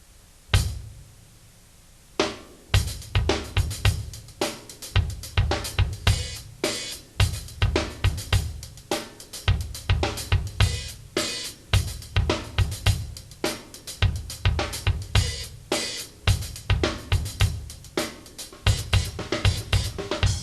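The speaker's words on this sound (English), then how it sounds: "So the way this translates is you have a simple kick and snare pattern, but a rather intricate hi-hat part." Drum kit playing a groove of simple kick and snare under an intricate, busy hi-hat pattern. It starts with a short quiet lead-in, then runs as a steady, dense stream of crisp hits, fairly loud with no voice.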